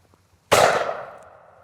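A single sharp, loud shot from a Miroku MK11 shotgun fired at a clay target in the open, with a bright crack that decays over about a second.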